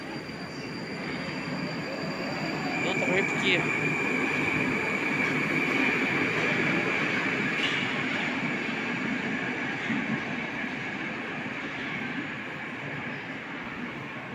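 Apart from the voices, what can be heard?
metro train riding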